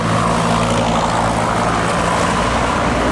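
A Hino 500 truck passes on a highway ring road with a loud, steady diesel roar and broad road rumble that holds throughout without fading.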